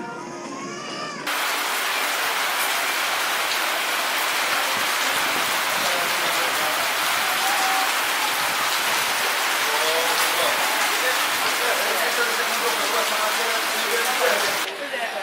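Steady rain falls in the Fez medina in Morocco, a dense, even hiss of drops on surfaces that runs almost the whole time after a brief quieter start.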